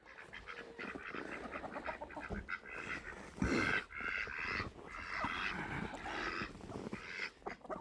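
Ducks quack and chatter continuously nearby, several birds calling over one another with a louder burst midway.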